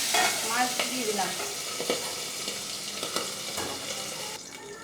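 Small pabda fish frying in hot oil, a dense close sizzle with crackles and stirring scrapes throughout, no voices.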